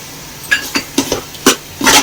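Malvani masala being stirred into prawn pulao in a pan: a handful of sharp metallic scrapes and clinks from a spoon against the pan, fairly close and loud, spaced irregularly with no talking.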